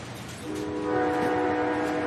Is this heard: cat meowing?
no